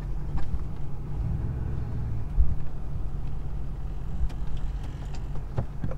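A Ford F450 pickup truck pulling away, its engine giving a steady low rumble close by with a few faint knocks and clicks over six seconds, no voices.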